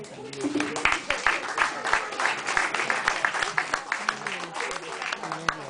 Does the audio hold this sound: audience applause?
yes